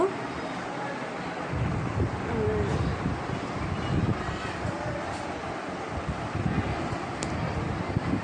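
Strong wind rushes over a small apartment balcony, a dense, steady roar with gusty low rumbling buffeting the microphone throughout, with no clear voices above it.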